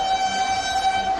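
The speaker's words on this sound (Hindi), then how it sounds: "लखनऊ के चारबाग रेलवे स्टेशन पर चलकर देखिए" Train noise at Charbagh railway station in Lucknow, a loud steady rumble with a sustained tonal horn-like hum throughout, no voices.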